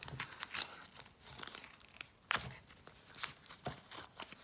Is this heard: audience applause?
no